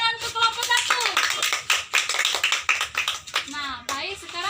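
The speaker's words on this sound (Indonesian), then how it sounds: "Tepuk tangan untuk kelompok 1." A classroom of students claps for a presenting group. Scattered, uneven hand claps are heard close by, with children's voices and a teacher talking over them.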